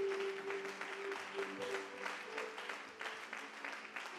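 Church congregation applauding during a worship service, steady rhythmic clapping from a crowd with a sustained musical tone beneath, moderately distant and even in level.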